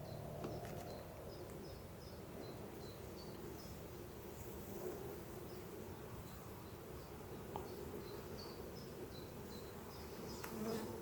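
Honeybees buzz around a hive during a beekeeper's inspection, a soft steady drone with individual bees whining past at close range, fairly faint and with no talk.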